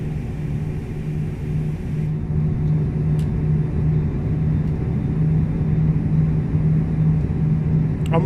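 CFM-56 turbofan engines of an Airbus A321 climbing in a flight simulator game, a steady loud low roar with a constant droning tone, continuous throughout with no voices.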